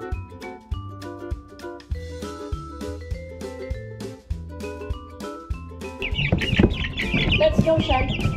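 Backyard chickens at a Texas home cluck and fuss near the end, following a stretch of bright tonal notes like music; the clucking rises louder and busier over the final seconds.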